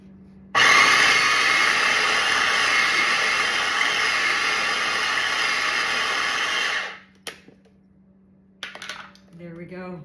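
A twist-and-chop kitchen chopper runs loud and steady through tuna for several seconds, a continuous whirring grind that cuts off abruptly, followed by quiet handling clatter and a brief voice.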